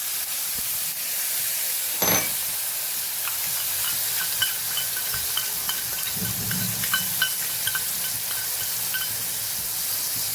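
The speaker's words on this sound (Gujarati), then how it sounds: "તો અહીં આપણું તેલ સરસ ગરમ થઈ ગયું છે તો એક ચમચી જેટલું આપણે જીરું ઉમેરશું" Cumin seeds, asafoetida and a water-soaked spice paste hit hot oil in a pan for monsoon-special kantola (spiny gourd) curry, giving a steady close frying hiss with a sharp burst early on and light crackles throughout, no talking.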